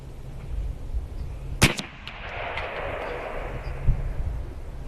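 A .50 caliber big-bore PCP air rifle fires one sharp, loud crack that rings briefly, followed by a softer thud a couple of seconds later.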